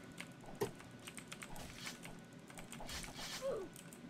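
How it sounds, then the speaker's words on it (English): Quick keyboard typing, soft and fairly faint, a run of light scattered clicks under game sounds during an online match. "I'm just typing quickly"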